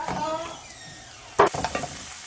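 Spices with salt, black pepper and garlic powder stirred in a frying pan, a soft sizzle followed by a short burst of scraping clatter as the spoon turns them, close by.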